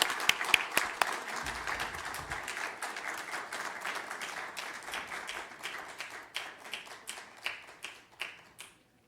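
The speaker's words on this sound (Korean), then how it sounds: "우리 박수로 모시도록 하겠습니다." Church congregation at a Friday worship service applauding to welcome a testimony speaker, a dense wash of many hands clapping that thins into scattered, distinct claps before fading out.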